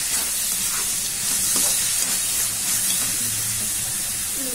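Onions sauté with salt in a pan for a home-cooked fish kulambu, giving a steady close sizzle and hiss with faint stirring scrapes throughout.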